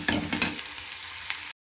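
Chili frying in a pan, a bright sizzle with a few quick scraping strokes near the start and one more near the end, close and fairly loud, cutting off abruptly, no talking.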